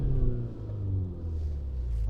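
A MINI John Cooper Works engine idles and revs gently inside the car, a steady low rumble that swells slightly and then eases, with no speech over it.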